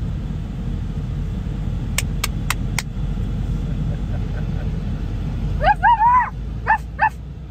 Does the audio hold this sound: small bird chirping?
no